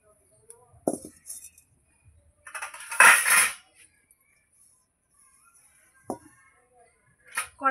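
A wok is set on a lit clay stove, giving a few sharp metallic clinks and one louder clattering scrape, separated by near silence.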